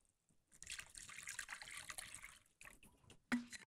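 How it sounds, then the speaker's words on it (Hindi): A little water poured into a cooking pan over a low flame for a chana masala mixture, a steady splashy pour lasting about two seconds, then a brief pause and a few short sloshes and clinks near the end. "अब डालते हैं इसमें थोड़ा सा पानी"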